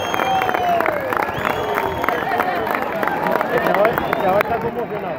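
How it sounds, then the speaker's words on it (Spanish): Crowd applause at the Asturcón horse festival for a rider, a steady clatter of clapping and cheering from spectators around the central ring, with a voice talking over it. "Y un aplauso fuerte para Alejandro Peón"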